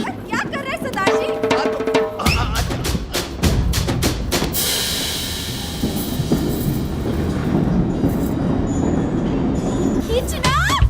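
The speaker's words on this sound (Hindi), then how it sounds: "मेरी ट्रेन छूटी जा रही है" A train pulling away from a platform, with clattering wheels and rolling rail noise building over about ten seconds, loud and close, while people's voices carry over the scene.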